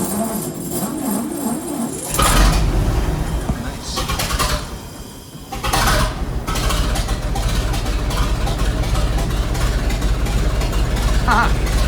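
A 1928 Ahrens-Fox N-S-4 pumper fire engine turns over on its push-button starter, catches with a loud burst, and settles into a heavy low idle, surging once before holding steady; a voice speaks briefly beforehand.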